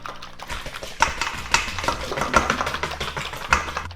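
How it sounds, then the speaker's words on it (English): Eggs and milk are beaten with a whisk in a bowl for breakfast burritos, a close, rapid, steady clatter of wire against the bowl with sharper taps now and then, and no talking. "hit it with a little whisk"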